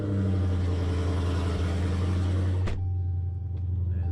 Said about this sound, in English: That exhaust never gets old.